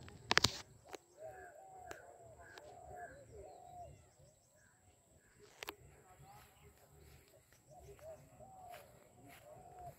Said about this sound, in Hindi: इनकी आवाज से ही आप कहीं भी सुनकर पहचान सकते हैं कि ये सारस या क्रेन या राजहंस पक्षी की आवाज है।